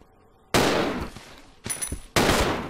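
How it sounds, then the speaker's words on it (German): Loud, sharp bursts of pistol fire in Resident Evil 0, three abrupt shots with reverberant tails spaced irregularly, close and dominant with no talking. "Blind schießen ist immer doll."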